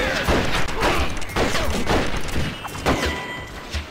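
Repeated gunshots ring out in the game Red Dead Revolver during a fight with henchmen and a shotgun-wielding old man, several sharp loud blasts spaced about half a second to a second apart.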